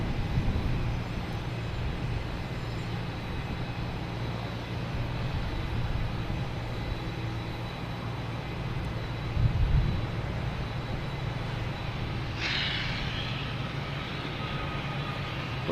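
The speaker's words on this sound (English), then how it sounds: "we got Shamrock, A321 Neo heading to Shannon." A Shamrock (Aer Lingus) Airbus A321neo bound for Shannon at Boston Logan, its engines a steady broadband roar holding throughout, with a brief louder swell partway through.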